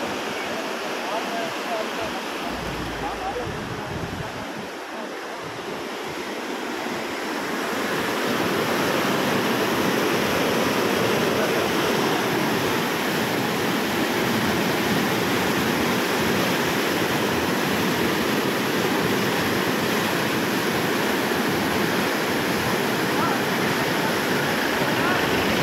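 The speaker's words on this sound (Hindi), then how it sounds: "आज मिर्चा वाली हेड में पानी आ गया जी" Water rushes steadily into the Indira Gandhi canal at the head, a loud continuous roar that swells after a few seconds and holds throughout, with no voices.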